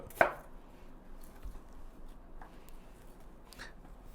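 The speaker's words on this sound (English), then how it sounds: "And so I'm going to take those, chop them there." A knife dices apples into small quarter-inch cubes for an apple cake, with one sharp chop against a cutting board followed by a few fainter, sparse cuts.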